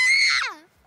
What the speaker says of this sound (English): or I might scream!